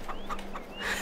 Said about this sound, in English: The chickens are all here.